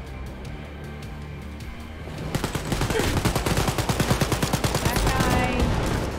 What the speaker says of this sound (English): I'm trying to distract him by shooting at him